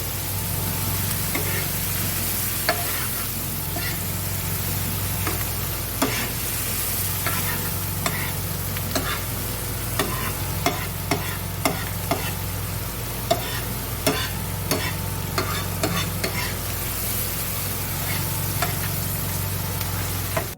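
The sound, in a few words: capsicum being stirred and fried for pav bhaji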